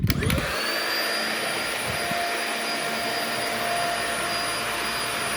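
A Dyson vacuum cleaner switches on with a brief bump and then runs with a loud, steady motor whine and airflow roar close to the microphone, holding an even pitch throughout.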